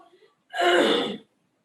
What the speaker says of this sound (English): This is the way you would clear your throat.